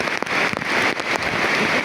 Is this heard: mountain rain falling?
yes